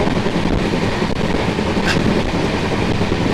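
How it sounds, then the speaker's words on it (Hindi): A Bhuj Namo Bharat Rapid Rail train passes at a crossing, heard as a steady loud rumble and rattle of wheels on track, dense and continuous throughout. "ट्रेन नंबर 94-801 भुज नमो भारत रैपिड रेल, उससे क्रॉसिंग होने वाली है।"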